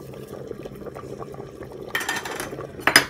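Rice bubbles in boiling water in a pot for chicken biryani, a soft steady simmer broken near the end by a few louder stirring clinks and splashes.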